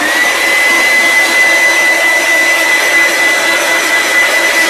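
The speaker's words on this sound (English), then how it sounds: "I'm going to dry it with the little hair dryer here" A hair dryer blows continuously and loudly up close, drying watercolour paper, a steady rushing whoosh with a faint whine, and no one speaks.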